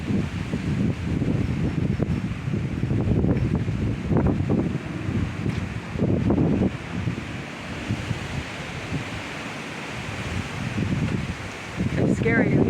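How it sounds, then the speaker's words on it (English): Hurricane wind gusting and rattling through trees, a steady broad roar with surging gusts and rustling foliage, loud and close with heavy wind buffeting throughout; a voice talks intermittently underneath. "And you can hear it rattle through the trees and coming this way."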